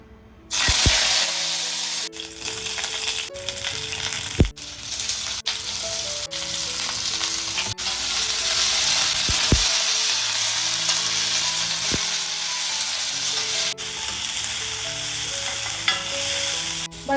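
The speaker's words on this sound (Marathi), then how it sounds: "आता आपली भाजी जी आपण टाकली आहे तेलात मस्त fry fifty to sixty percent आपण कुक करून घेतलेली आहे" Beans, carrot, potato and paneer frying in oil in a hot kadai give a loud, unbroken sizzle up close, punctuated every second or two by sharp spatula strikes and scrapes as the vegetables are tossed.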